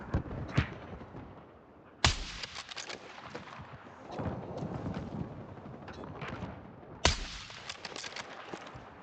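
Gunfire in the video game Battlefield 6, loud sharp shots with sudden bursts near the start and around two and seven seconds, amid a dense rumbling battle mix.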